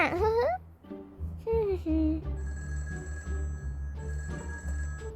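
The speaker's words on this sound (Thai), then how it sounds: "อุ้ยเสียงอะไรน่ะ ใครโทรมาเนี่ย" A phone rings in the video game Toca Life World with a repeating electronic ring pattern. It plays after a voice speaks, continues under quieter background sound, and stays fairly close and clear.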